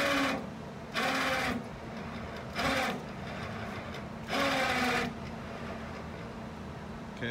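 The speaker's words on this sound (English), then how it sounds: "let's see if this winch has any oomph" An electric winch runs in three or four loud bursts of whirring motor noise, each lasting roughly half a second to a second, pausing in between while pulling a trailer. A steady background hum is present throughout.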